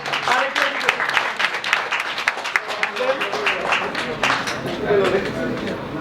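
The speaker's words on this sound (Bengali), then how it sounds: "সো ওনার জন্য জোরে করতালি হয়ে যাক" A crowd at a business partner meet claps loudly for a prize winner, dense applause close by with voices and chatter mixed in.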